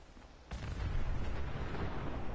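A companion's grenade explosion in Fallout 4, a sudden loud boom followed by a sustained heavy rumbling roar that holds for about two seconds, with no talking.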